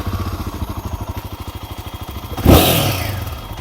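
Royal Enfield Himalayan 450 motorcycle idling with a steady pulsing thump, then a sudden loud clattering burst and rising rev as the engine catches at start-up, settling into a rough, rumbling run.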